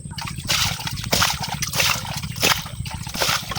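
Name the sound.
shrimp and water poured into a plastic bucket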